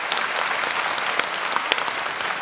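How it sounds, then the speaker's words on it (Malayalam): Applause from a television studio audience on a music show, a brisk, dense round of clapping with distinct individual claps standing out, heard close and alone. "ശരത് സാർ ഒരു വലിയ കൈയടി"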